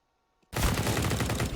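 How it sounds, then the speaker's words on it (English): Krieg rifle hip-fired in a competitive ESL One match of a video game, a sudden loud burst of rapid automatic shots that starts after a near-silent lead-in and keeps going to the end. "Hip fire plenty with the Krieg"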